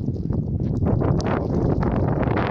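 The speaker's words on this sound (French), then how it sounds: "Écoutez le vent." Steady, loud wind roars and buffets against the microphone, a dense rumbling rush with no voices, in an icy snowstorm over a field.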